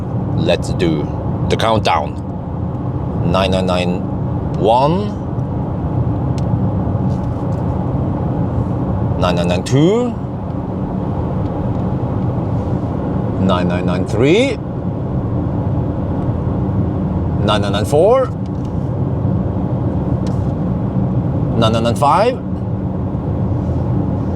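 A Toyota bZ4X electric car drives along a quiet European road, its steady tire and road rumble droning low and continuous inside the cabin while someone talks over it at intervals.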